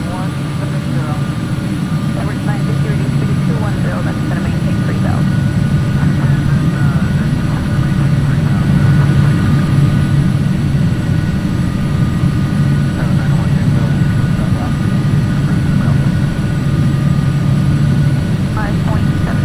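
A Carenado Hawker 850XP business jet taxiing in a flight simulator, its engines holding a steady loud whine and rumble with no letup while someone speaks over it.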